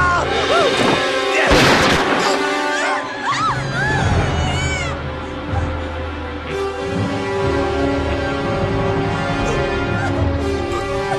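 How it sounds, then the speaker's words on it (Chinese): Gunfire in a chaotic dramatic scene, with a loud boom-like shot early on amid shouting and screaming voices, followed by continued crowd noise and music. "开枪了！"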